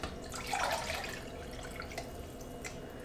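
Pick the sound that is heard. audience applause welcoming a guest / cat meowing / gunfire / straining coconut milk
straining coconut milk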